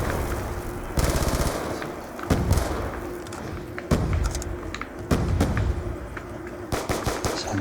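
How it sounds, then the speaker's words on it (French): Gunfire in Black Ops 2 Zombies survival on the Town map: rapid automatic bursts and heavy thuds crackle loudly and continuously, with sharp individual shots standing out and no speech. "il tire dans toute la map."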